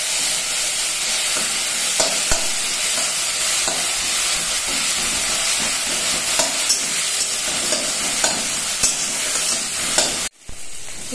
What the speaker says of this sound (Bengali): পেঁয়াজটা ভাজা হয়ে গেছে এবার আমি টমেটো দিয়ে দেবো